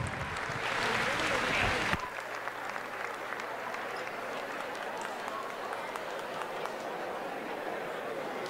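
Crowd applauding and cheering for a street dance group at a high school basketball game, a loud burst that drops sharply after two seconds into softer continuing clapping and chatter.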